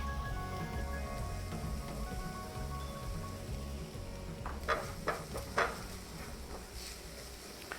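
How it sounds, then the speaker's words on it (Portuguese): Chili pepper sautéing in a pan with a pinch of salt, giving a steady close sizzle and crackle that carries throughout, with a few sharper pops and spatters near the end. "Vou dar uma refogadinha aqui."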